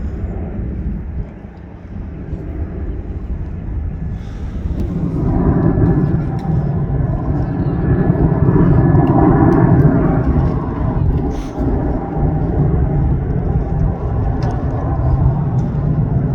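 An Airbus A340 airliner at Manchester Airport, heard from the South Side Viewing Park, makes a deep, rising jet rumble that swells midway and holds steady, with wind buffeting on the microphone and a voice speaking briefly over it.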